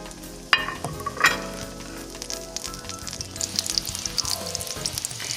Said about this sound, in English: Let that egg drain off, and then just add that to your skillet.